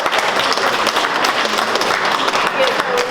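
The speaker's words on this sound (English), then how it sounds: "I think a round of applause for that" Audience at a gerbera-dividing talk gives a round of applause, dense steady clapping with a voice speaking over it.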